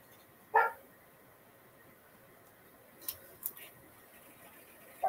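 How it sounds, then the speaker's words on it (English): Dogs bark: one sharp close bark, then a few fainter barks and yips a few seconds later, against a quiet indoor background. "Dogs are going bonkers."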